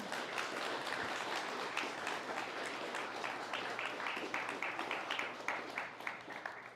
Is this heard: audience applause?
yes